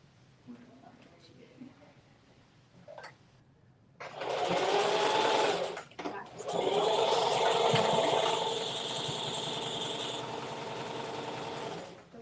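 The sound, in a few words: sewing machine sewing a zigzag stitch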